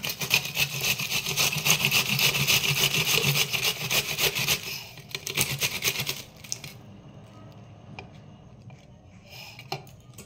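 Knife chopping vegetables, including cabbage, on a board for pakora: a dense, rapid run of scraping cuts for about six seconds, then a few sparse, separate taps close by.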